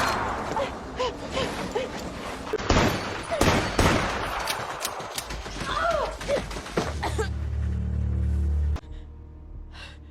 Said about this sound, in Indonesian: Casey beradu tembak dengan orang yang dia tidak tahu tepat lokasinya.